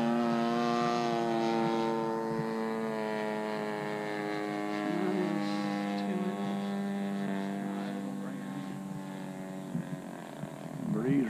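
A large 89-inch Hanger 9 Extra RC airplane with a DLE55 gas engine drones overhead, its steady buzzing tone shifting in pitch as it passes, with a person talking nearby toward the end.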